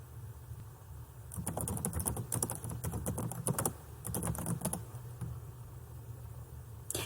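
A search being typed on a computer keyboard during library database instruction: a quick, uneven run of soft key clicks for a few seconds, fairly close, over a quiet room hum, with no talking.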